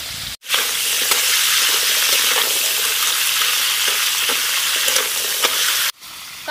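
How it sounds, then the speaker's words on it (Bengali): Crabs and crab claws fry in hot oil with a dense, loud, continuous sizzle, broken by two brief dropouts, with faint stirring scrapes throughout. "এদিকে তেল গরম হয়ে গেছে, কাঁকড়াগুলো তেলের মধ্যে দিয়ে দেব।"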